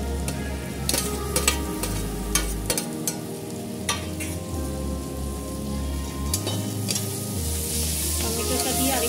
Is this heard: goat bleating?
no